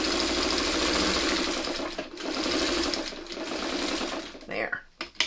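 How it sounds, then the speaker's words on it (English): A sewing machine stitches quilt-block fabric in a steady whirring run that slows and stops near the end, close and fairly loud, with people talking in the background. "you're gonna run it under the sewing machine"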